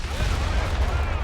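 Artillery fire in Company of Heroes 3 rumbles as continuous distant booms and blasts, a dense low roar throughout.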